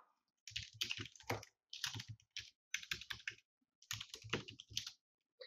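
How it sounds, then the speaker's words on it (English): Computer keyboard typed on in short bursts of quick, crisp key clicks separated by brief pauses, close and clear with no talking. "I can go ahead and type in the title of my new meeting page"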